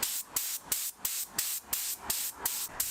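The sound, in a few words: spray gun spraying paint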